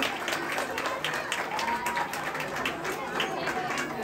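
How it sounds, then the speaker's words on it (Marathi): An audience at a society temple anniversary function claps for a child, with dense, steady applause throughout and voices mixed into the crowd noise. "जोरदार टाळ्या वाजवायच्या सानूसाठी."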